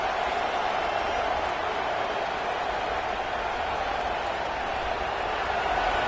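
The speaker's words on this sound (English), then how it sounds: "Listen to the crowd energy here in the early going" A stadium crowd roars continuously at a Penn State versus Ohio State college football playoff game, a broad, unbroken wall of distant cheering and murmur at constant loudness with no clear peaks.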